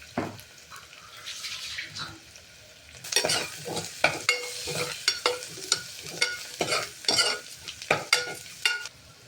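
Brinjal rice masala frying in a pan with salt and turmeric, a close crackling sizzle with repeated rhythmic stirring scrapes and spoon knocks growing busier after the first few seconds, no voices.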